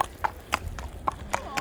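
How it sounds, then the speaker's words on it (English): Hooves of a horse clop on the ground in an uneven, close rhythm of sharp knocks, with low background noise and no speech. "You have a fat horse there."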